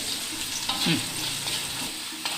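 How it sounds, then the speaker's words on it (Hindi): Ginger, garlic and green chili stirred as they fry in a pan, a steady sizzle with scraping spoon strokes near the middle, close and fairly loud throughout. "अभी इसको अच्छा से मिक्स करें, तब तक मिक्स करें जब तक ये जो जिंजर, गार्लिक और हरी मिर्च, इन तीनों का कलर हल्का सा ब्राउनिश ना हो जाए।"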